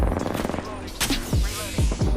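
Gunfire in the video game Apex Legends: a few sharp, booming shots in quick succession over a dense layer of game sound and tonal effects, loud and close.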